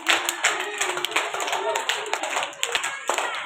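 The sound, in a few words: children clapping their hands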